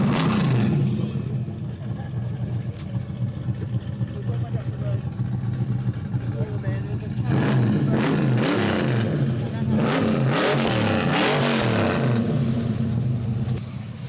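A stock Holden 308 V8 with light headwork, a 286 cam, 3000 stall converter and 355 diff gears idles with a lumpy, loping rhythm and blips into revs at a car meet, loud and close amid crowd noise and voices.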